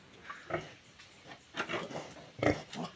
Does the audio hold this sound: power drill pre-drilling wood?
no